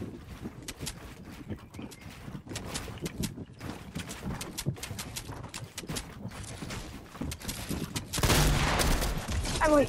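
Rapid Fortnite gunfire, many sharp shots in quick bursts throughout, ending in a louder, sustained volley.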